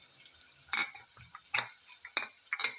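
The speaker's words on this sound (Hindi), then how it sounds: "इसकी हम कर लेंगे भुनाई ताकि अदरक और लहसुन का जो है कच्चापन वो ख़त्म हो जाए।" A ginger, garlic and green chilli paste is stirred and fried with onions, a soft sizzle broken by repeated scraping strokes of a spoon against the pan, roughly every three quarters of a second, close and without speech.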